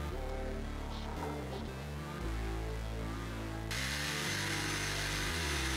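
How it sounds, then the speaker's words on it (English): A jigsaw cutting a wooden piece for a buffet table, a loud continuous buzzing whine close up that shifts pitch as the blade works through the wood. "After a couple more quick cuts with the jigsaw, this piece is all ready to go."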